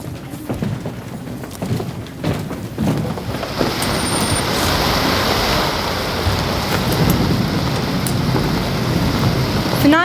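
A rain sound effect plays in a school stage production, a steady loud hiss of downpour with rumbling, building after the first few seconds and running continuously.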